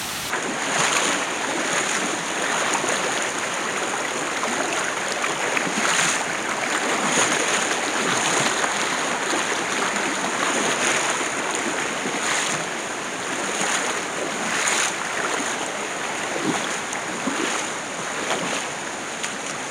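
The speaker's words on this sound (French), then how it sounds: "on va traverser la rivière qui est celle en face" River water rushing steadily while someone wades across it in a gorge, a continuous broadband wash of flowing water with occasional splashy surges, close and fairly loud, no voices.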